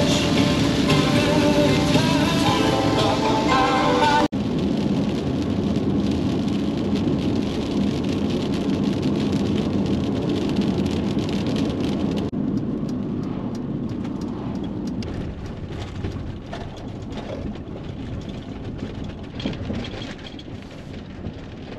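Rain falls steadily outdoors near sand dunes in Idaho, a dense hiss of drops on surfaces with a low rumble of thunder underneath, loud at first and then easing to a softer patter.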